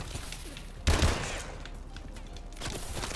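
M1 Irons rifle fire in Call of Duty: Advanced Warfare, one sharp loud shot burst near the start followed by a decaying tail and a softer second report later, with no talking.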